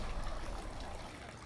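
Water trickles and pours steadily from a wooden ladle at a Shinto shrine purification basin, a soft continuous splashing heard close and faint with no talking.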